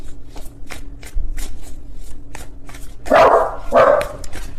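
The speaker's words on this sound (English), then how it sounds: "Please ignore my dogs in the background." Two loud dog barks from several dogs in the background of a quiet indoor room, arriving close together near the end after a series of soft, regular tapping clicks.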